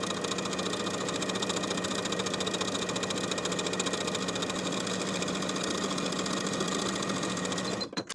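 A sewing machine runs steadily, stitching a folded fabric tie piece for a summer dress with a quarter-inch seam, its fast even hum and needle rhythm continuing alone and loud until a few clunks at the end.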